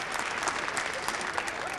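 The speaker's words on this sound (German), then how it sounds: "Viel Applaus hier in der Starlight-Halle für Greaseball" Steady audience applause fills the Starlight Express hall, a continuous wash of clapping from a large crowd at a show, held at an even level without a break.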